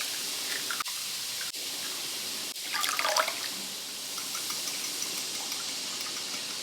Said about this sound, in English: then I'm gonna add in a 1/4 cup of water just to kind of fluff up the egg